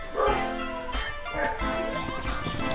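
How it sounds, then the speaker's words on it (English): Several dogs barking and yipping in the background of a room, repeated sharp barks spread across the stretch, with a whimpering quality and no clear talk over them. "I'm sorry you guys get to hear my dogs in the background."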